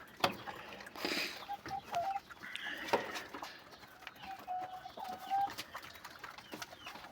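Faint chickens clucking and a rooster call at a distance, with rustling and background noise around them, at a poultry sale of black hens, eggs and chicks.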